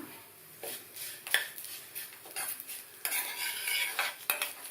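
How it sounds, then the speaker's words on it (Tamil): Urad dal and curry leaves roasting in a pan for chutney, a spoon stirring and scraping in quick, irregular strokes with faint sizzling and metallic clinks, close and clear. "அது வறுபட்டு இருக்கும்போதே கொஞ்சமா கருவேப்பிலையும் சேர்த்து வறுத்துக்கலாம்"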